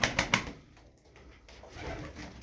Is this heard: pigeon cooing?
yes